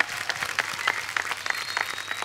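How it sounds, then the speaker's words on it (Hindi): A studio audience at a comedy talk show bursts into steady, close applause, a brisk even patter of many hands clapping with no talk over it. "इनके लिए जोरदार तालियां"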